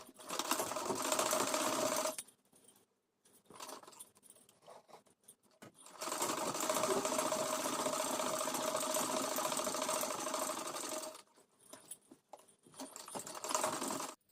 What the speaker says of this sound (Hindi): तो चलिए स्टिचिंग स्टार्ट करते हैं।